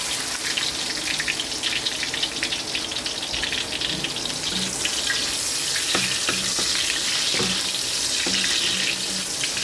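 Onions being sautéed in a pan while making ginisang upo, a steady broadband sizzle with running-water and tap-like noise layered over it and a few soft clinks and knocks, continuous throughout at moderate level.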